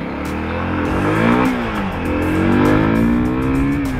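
A motorcycle accelerates hard, pitch climbing through several gear changes up to third, loud and close, with a steady rhythmic ticking high above it and no speech.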